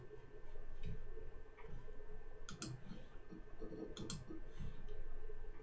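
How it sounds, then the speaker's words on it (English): A computer mouse clicks in a few crisp, close taps as a file is uploaded, heard over a steady background hum with no voices. "Let's click to upload this file"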